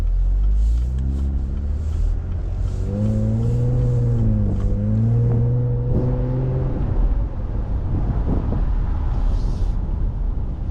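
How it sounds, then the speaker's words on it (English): A 2024 Camaro RS convertible with a 3.6L V6 and dual-mode exhaust in sport mode, engine rumbling and revving up with rising tone, close and loud, then settling back to idle. "we'll switch it into sports so you guys can hear the difference of the"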